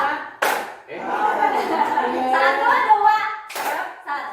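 A group of people doing a chain-clapping icebreaker at a school teacher training session, with short bursts of clapping at the start and end and speech in between.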